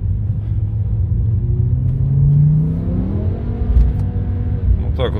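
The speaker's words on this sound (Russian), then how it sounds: "Так, знаете, вот буксует она, ну, в смысле, колеса пробуксовывают" BMW M6 engine revving hard with its wheels spinning, a steady loud rumble rising in pitch mid-clip and then easing, with a brief sharper squeal near the end.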